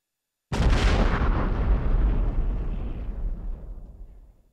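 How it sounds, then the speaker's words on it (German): A deafening First World War mine detonation blowing apart a mountain summit: one sudden, massive blast that erupts out of silence, then a long rolling rumble slowly decaying over several seconds, heard alone. "gefolgt von einer ohrenbetäubenden Detonation, die den Gipfel in 1000 Stücke riss"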